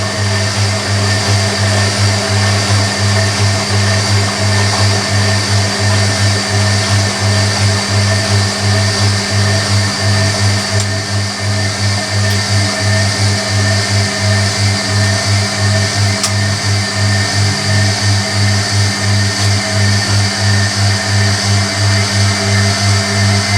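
Drain pumps of a Hoover Electronic A3172 washing machine run during a cottons 40 wash, a loud, steady, close mechanical hum with a slight pulsing throb that holds unbroken throughout.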